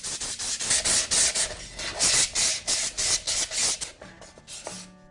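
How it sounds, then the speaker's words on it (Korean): Coarse sandpaper rubs back and forth over traditional Korean mother-of-pearl lacquerware, a series of loud, rhythmic raspy strokes with short pauses between them, ending in softer scraping. "그래도 사포할 때는 이제 양면을 다 해서"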